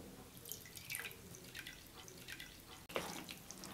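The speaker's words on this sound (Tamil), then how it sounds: "இப்போ வந்து லைட்டாக தண்ணி சேர்த்துங்க," Water being poured into semolina idli batter in a kitchen while making tomato idli, a light trickling and dripping pour that runs steadily near the microphone with a brief break, no talking.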